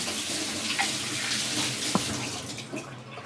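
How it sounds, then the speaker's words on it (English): A kitchen tap runs steadily while hands are washed beneath it, a continuous close hiss of flowing water with a couple of small clinks and splashes, moderately quiet. "Remember always to wash your hand"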